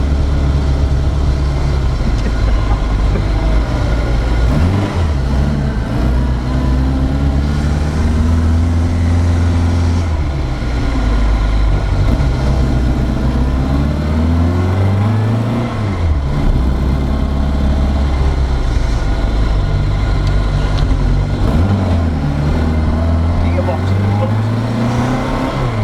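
A 1983 Reliant Rialto three-wheeler's small engine drones loudly on a road drive, rising and falling in pitch through repeated gear changes, with speech heard over it.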